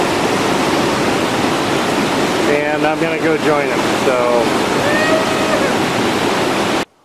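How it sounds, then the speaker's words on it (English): A waterfall beside a trail near a mountain lake rushes in a loud, steady roar that fills the whole scene, with a person speaking briefly over it. "We picked a better spot right next to a waterfall."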